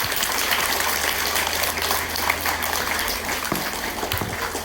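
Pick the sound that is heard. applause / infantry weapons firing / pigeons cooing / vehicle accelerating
applause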